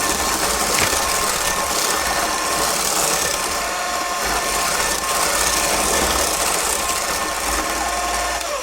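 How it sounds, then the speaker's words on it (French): Electric mixer whipping egg whites with sugar for meringues, a constant high whirring buzz with a rattling beater edge, steady and close throughout with no pauses. "Il faut serrer nos blancs, ça va obtenir des blancs d'œufs très brillants"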